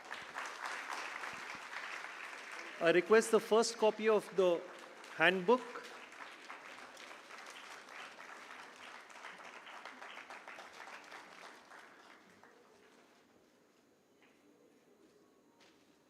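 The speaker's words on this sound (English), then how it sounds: "We have a round of applause, please." Sustained audience applause at the inaugural ceremony of the IIID Design Confluence and Showcase in Chennai, marking a handbook release. Steady clapping fills the room with someone speaking over it, then it tapers off near the end.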